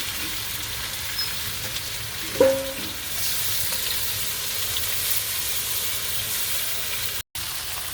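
Spices cooked down in a pan with chicken sizzle in a soft, steady hiss, with a brief stirring scrape partway through and a short drop-out near the end.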